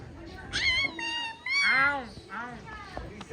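A cat meows repeatedly, several drawn-out, wavering meows of varying pitch, close and fairly loud against a faint background hum.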